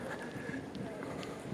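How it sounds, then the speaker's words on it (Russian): Wind rushes steadily outdoors in a city square, buffeting the microphone with a constant low roar for the whole short stretch. "сегодня ветер такой"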